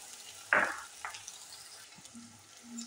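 Green chili and garlic sizzle in hot oil with cumin while matar paneer is cooked. A soft steady frying hiss runs throughout, with a sharp stirring scrape near the start and a few quieter clinks after it.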